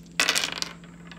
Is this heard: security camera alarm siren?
no